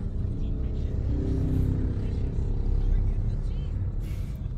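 A learner driver's car engine, with someone at the wheel, rumbling low and steady as the gas is pressed, rising slightly midway; a voice sounds faintly underneath.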